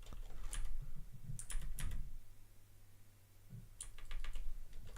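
Rapid clicking of a computer keyboard in short irregular bursts, with a quieter pause in the middle, over a steady low hum, no voices.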